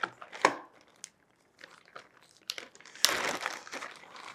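A reusable plastic Ziploc bag crinkles and rustles in short, irregular bursts while a headset is unpacked, close and fairly quiet with a louder crumple near the end.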